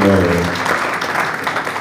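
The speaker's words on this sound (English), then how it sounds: "please another round of applause for him" Audience applause at an anti-corruption event, a steady dense wash of clapping that follows a brief trailing voice at the start.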